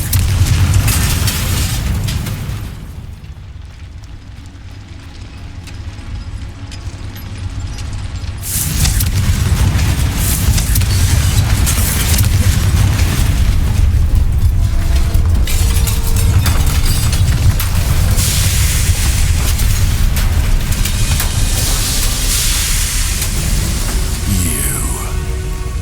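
Repeated Confringo fire-spell blasts from the video game Hogwarts Legacy, heavy booming bursts over a dense rumbling game soundscape, with a quieter lull before the explosive noise swells back and stays loud.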